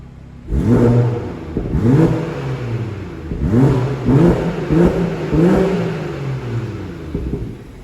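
BMW 340i M Sport saloon engine revving up repeatedly in short blips, each rev rising sharply then falling away, loud and close with no talk.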